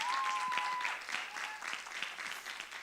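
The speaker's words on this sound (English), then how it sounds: "let's give her a wonderful round of applause." Audience at a health and wellness expo applauding a speaker, a steady wash of clapping at moderate distance that holds for the whole stretch and tapers slightly near the end, with a few faint voices under it.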